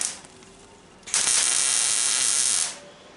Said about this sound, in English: what I try to do is run the longest weld I can right on that edge